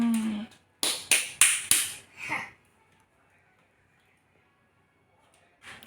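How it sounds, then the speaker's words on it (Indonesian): Children clap their hands at home, four sharp separate claps in quick succession followed by a softer fifth, with a brief voice before and near-silence afterwards. "Yeay, tepuk tangan anak-anak"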